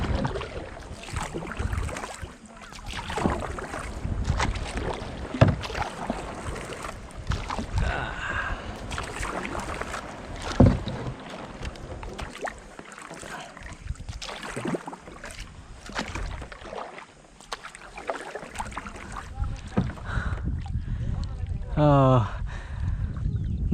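A kayak is paddled across open water on a warm, clear evening. Steady splashing and sloshing strokes run throughout, with a brief rising tonal sweep near the end.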